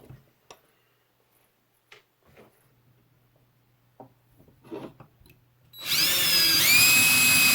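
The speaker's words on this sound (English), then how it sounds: "I'm going to go ahead and drill it out with a 1/16 inch drill bit" A power drill with a 1/16 inch bit bores out a watch bracelet link, starting after several seconds of quiet handling clicks and taps as a loud, steady high whine.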